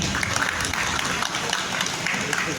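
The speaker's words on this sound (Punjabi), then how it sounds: "ਤਾੜੀਆਂ ਜੀ" An audience at an organisation's executive meeting in Patiala claps in dense, continuous applause that stays fairly even and loud for its whole length.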